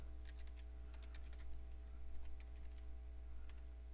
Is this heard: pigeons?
no